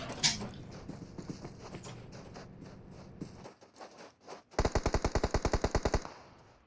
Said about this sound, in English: And the shots begin.